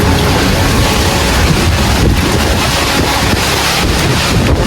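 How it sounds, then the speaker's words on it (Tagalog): Strong typhoon wind roars steadily against the microphone, a loud continuous rush with gusty buffeting throughout and no talking. "Biglang lumakas yung hangin"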